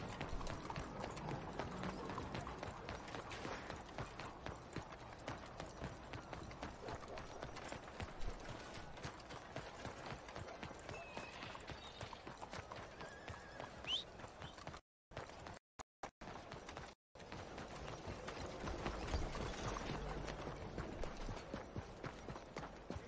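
Horse hooves clip-clop at a gallop in the video game Red Dead Redemption II, a steady, fairly loud run of hoofbeats that continues through most of the stretch, with a few brief dropouts.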